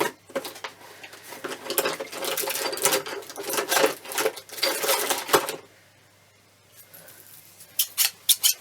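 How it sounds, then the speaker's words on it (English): Large fabric shears snip through paper while small ephemera pieces are trimmed, giving a run of close, crisp crunching cuts for about five seconds, then a pause and a few short separate snips. "These will do, they're like great big shears. These are what used to be my material shears."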